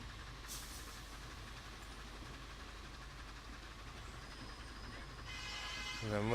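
Corris No.7 narrow gauge locomotive in a train simulation, a steady low rumbling drone of engine and running gear with a brief whistle-like tone near the end.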